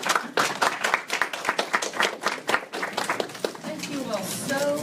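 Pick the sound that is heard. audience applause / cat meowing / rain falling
audience applause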